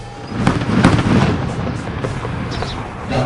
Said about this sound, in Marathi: अशा तोफांच्या आवाजानं अहमदनगरचा अख्खा परिसर दुमदुमला